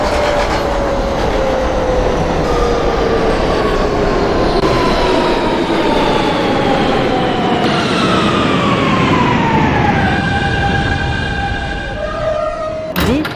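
An R160 Siemens New York subway M train bound for Bay Parkway runs in the OpenBVE train simulator, giving a loud, steady rumble with motor whine tones that climb and fall as it speeds up and slows, with no talking.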